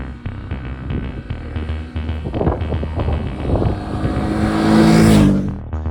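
A Ducati SuperSport 950S motorcycle riding on an open road, its engine rising and falling through gear changes and revs, climbing to a loud acceleration near the end, with steady wind and road roar beneath.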